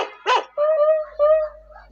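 A folk drama actor imitates a dog with his voice, giving a short yelp followed by two drawn-out whining howls, close and clear against a quiet background.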